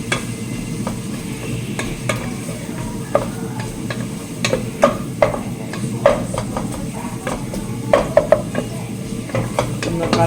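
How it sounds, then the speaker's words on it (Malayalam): Onions sauté in a pan with turmeric, black pepper and chili powder, hissing steadily while a utensil repeatedly clicks and scrapes against the pan in irregular taps, close and without talk. "സവാളയുടെ കളറൊന്ന് ചെറിയ ബ്രൗൺ കളറാകുന്ന വരെ ഒന്ന് വഴറ്റി കൊടുക്കണം"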